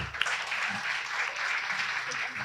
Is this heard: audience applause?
yes